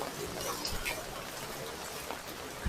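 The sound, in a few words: heavy rain during typhoon Enteng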